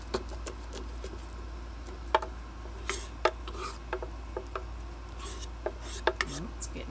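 Raw vegan banana nice cream is stirred and mixed, giving quiet scraping and rubbing with scattered soft taps and clicks at an irregular pace, close up and low in level.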